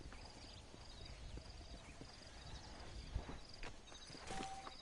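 In the video game Red Dead Redemption, a horse's hooves clip-clop in a soft, irregular walking rhythm, faint and close, with a brief low thump near the end.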